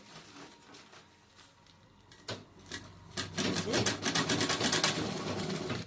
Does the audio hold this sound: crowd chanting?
no